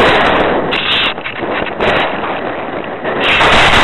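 Wind blows outdoors at an RC plane flying field, a loud, continuous rush of gusts buffeting the microphone, rising and easing in waves.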